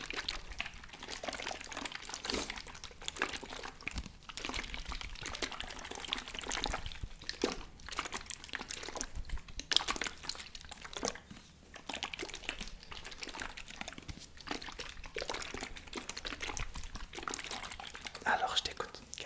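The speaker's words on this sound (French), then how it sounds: "on va faire quelques petits bruits d'eau en attendant" Soft, close water sounds made for ASMR, with continuous gentle trickling, pouring and dripping that ripple steadily throughout, faint breathy whispering mixed in.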